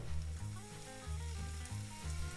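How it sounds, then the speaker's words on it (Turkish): Dough scraps for çiğ börek sizzle steadily in hot oil, a close, crackling fry with a low pulsing bubble underneath and no voices. "Yağımın hazır olup olmadığını anlamak için kenarından kestiğim parçaları atıp bakabilirim."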